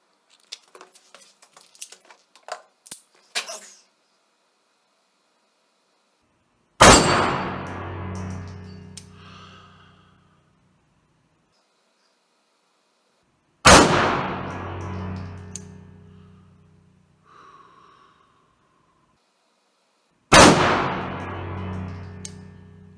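A Bersa Thunder 380 Plus pistol fires 80-grain Barnes Tac-XP lead-free rounds, three loud, sharp reports several seconds apart, each with a decaying echo, after some faint clicking and handling noises.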